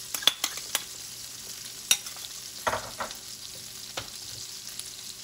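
Fresh garlic frying in a pan for garlic butter salmon, a faint, low sizzle broken by several sharp clicks and scrapes of a utensil against the pan.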